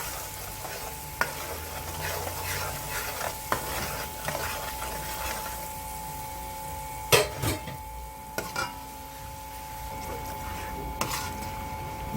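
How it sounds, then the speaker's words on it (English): Pork curry frying in a pan while being stirred, giving a steady low sizzle with scraping utensil strokes and a few sharper clinks, close and moderately quiet, with no talking. "I'm gonna start and fry this up a bit."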